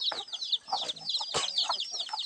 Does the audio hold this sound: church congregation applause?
no